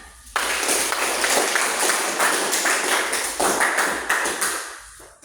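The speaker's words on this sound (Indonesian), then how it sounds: "Dan tepuk tangan" An audience applauds in a classroom or lecture setting, a dense, loud burst of many hands clapping that holds steady for several seconds and then tapers off, with no talking over it.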